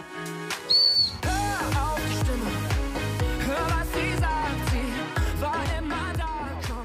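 A dog training whistle gives one short, high blast during a puppy recall exercise. Steady background music with a beat plays through the rest.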